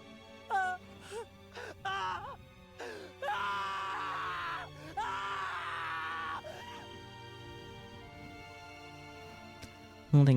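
A male character in the Steins;Gate visual novel screams in grief, anguished cries and groans rising in repeated bursts over a steady musical background, loud and close.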